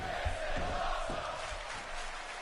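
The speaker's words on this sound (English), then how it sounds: "Crowd's into it already with the "This is awesome" chant." A wrestling crowd chants in rhythmic unison, a steady rolling roar of many voices in the arena with a repeating pulse, under an announcer's voice.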